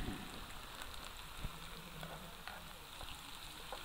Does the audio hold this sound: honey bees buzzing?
no